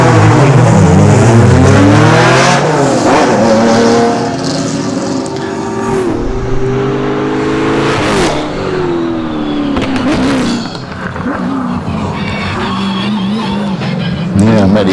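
Race car at a hillclimb working through a chicane, engine revving up and down in quick bursts with tire squeals between gear changes, loud and close, with a commentator's voice faintly underneath.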